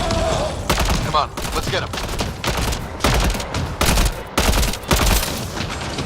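Repeated bursts of sci-fi gunfire from the video game Mass Effect Andromeda on the planet Havarl, loud and close, coming in uneven volleys as someone speaks briefly over them.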